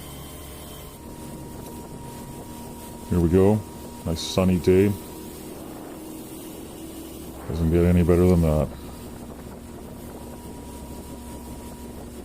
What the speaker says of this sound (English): Zip it along, maybe 3/4 speed on the outboard motor.